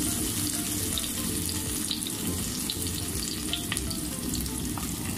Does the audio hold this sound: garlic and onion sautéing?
yes